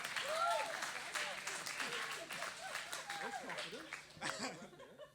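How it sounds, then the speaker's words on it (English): An audience claps and laughs in a bright patter that peaks early and then thins, with chuckles and a voice mixed in among the applause. "Yeah, you can clap for me."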